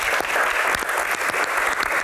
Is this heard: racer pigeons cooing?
no